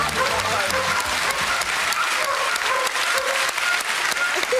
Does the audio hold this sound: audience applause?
yes